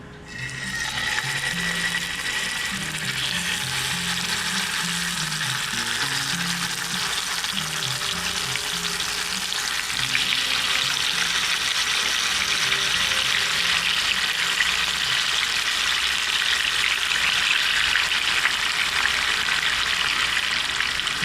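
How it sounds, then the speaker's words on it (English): Pieces of Catla fish fry in a pan over high heat, giving a loud, continuous crackling sizzle that holds steady throughout with no voices. "I'm going to add our fish to the pan."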